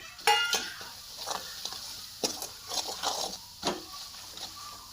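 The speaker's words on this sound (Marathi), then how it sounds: "हा मसाला पण चांगला लाल होईपर्यंत आपल्याला तेलात तळून घ्यायचा आहे।" Ginger-garlic masala frying in oil for chicken dalcha: a soft sizzle under intermittent stirring scrapes and sharp utensil clinks against the pan, with no voices.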